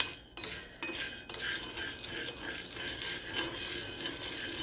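Coffee beans stirred in a cast iron pan over medium heat give a steady run of light scraping and clinking, close and moderately loud, with no talking.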